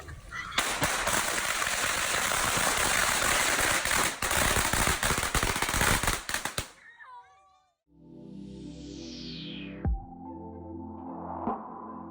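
A long, dense barrage of rapid Chinese New Year firecracker bangs crackles loudly for several seconds, then cuts off, followed by a whistling rocket and a few scattered pops.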